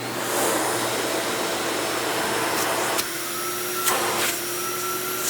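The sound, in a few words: Dirt Devil 7200 Deluxe upright vacuum cleaner suction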